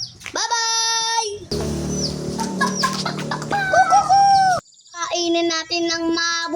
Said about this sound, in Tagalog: Yung sisiw natin ay mahalaga sa buhay at sa mundo.